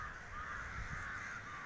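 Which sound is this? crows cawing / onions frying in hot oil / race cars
crows cawing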